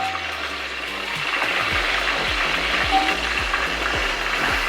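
Beef trotters (paye) fry in oil in a pot with a loud, steady sizzle, and a regular clanking beat runs under it as they are stirred, without speech.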